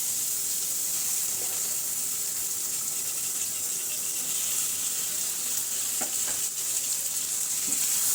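Prawns dropped into hot, well-cooked masala give a loud, steady frying sizzle with a bright hiss that fills the whole stretch, plus a few soft scrapes of a spatula along the way.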